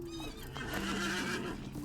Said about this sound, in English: there you go, open up my horse.